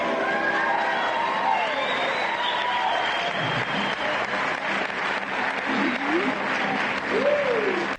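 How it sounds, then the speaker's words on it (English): Theater audience applauding during a Spider-Man (2002) screening, a sustained dense wash of clapping from a large crowd, with faint voices and a few whoops mixed in. "So many people are clapping,"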